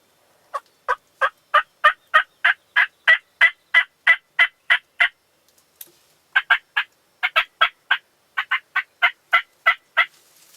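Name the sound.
wild turkey toms gobbling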